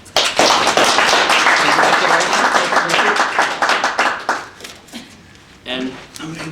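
Applause at a Las Vegas clinic talk: a loud burst of dense clapping that builds quickly, holds for several seconds, then thins out and trails off, with a voice speaking near the end.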